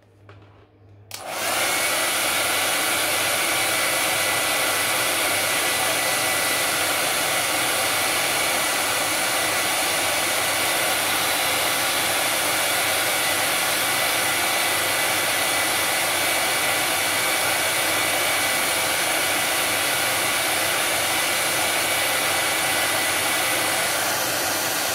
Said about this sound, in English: so hair dryer